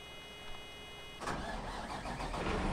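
A harvester's large engine in Farming Simulator 2013 cranks and fires up around the midpoint, settling into a loud, steady rumbling idle after a quiet electronic hum.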